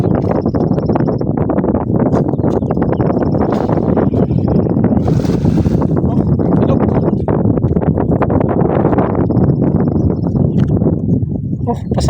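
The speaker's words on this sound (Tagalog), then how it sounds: "Pasalubong hangin." A strong headwind at sea roars steadily across the microphone aboard a small boat, with voices talking faintly beneath the constant blustery rush.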